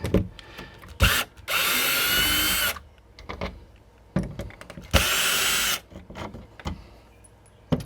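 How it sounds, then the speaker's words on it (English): A power drill backs screws out of an RV door in two sustained whirring bursts, each about a second long, close and loud, with handling clicks and knocks in between. "Next thing I'm going to do is pop these screws off."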